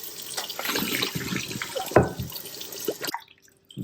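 Grated potatoes rinsed under a running kitchen tap: steady splashing water with sloshing as they are stirred, close and loud, ending abruptly when the flow stops.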